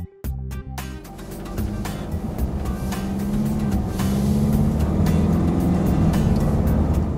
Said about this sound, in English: Off the line, it changes up through the ratios pretty quickly